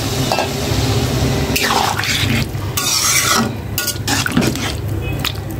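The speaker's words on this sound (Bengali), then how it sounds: "এখন ঝোলের জন্য পানি দিয়ে দিচ্ছি।" Water poured into spice paste frying for curry, splashing and gurgling bursts over a continuous pan sizzle, close and fairly loud.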